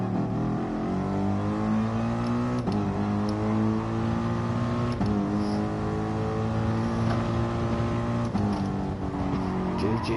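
A Citroen rally car engine in a racing video game roars loud and close throughout, its revs climbing steadily and dropping sharply at each gear change, with no break in the drone.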